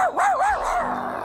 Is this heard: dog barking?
yes